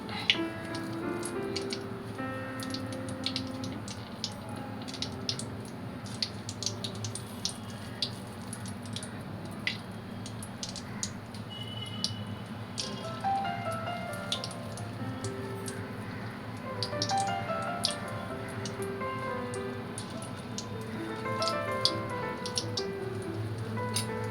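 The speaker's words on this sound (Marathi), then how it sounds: "बघा, तेल तापत आलंय, अस्ती अस्ती मी भजी सोडते।" Jawla bhaji fritters fry in heating oil over a low flame. A steady soft sizzle runs throughout, dotted with frequent small crackles and pops, with no talk.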